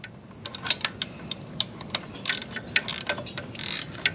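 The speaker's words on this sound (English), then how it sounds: "I got the ratcheting one, so I can just ratchet it off" A ratcheting wrench clicks in quick, uneven bursts as it backs a nut off a Harley-Davidson Road Glide Special, with sharp close metallic ticks separated by short pauses.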